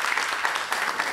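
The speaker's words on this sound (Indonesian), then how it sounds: "tepuk tangan untuk Anda" A small audience claps for a pianist after a solo piano recital, a soft, fairly distant patter of hands heard alone with no talking.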